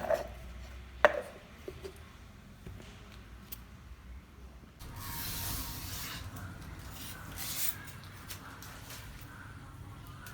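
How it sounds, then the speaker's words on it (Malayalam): Ingredients are ground into a paste with a steady, gritty rubbing and scraping that starts partway through and continues to the end, after a few soft knocks and handling sounds, moderately close and without speech. "ഇത് അരച്ചെടുക്കാം"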